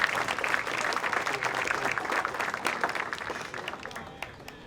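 Outdoor concert audience in a park applauds after a German band's song, thick clapping that holds steady and then thins and fades toward the end.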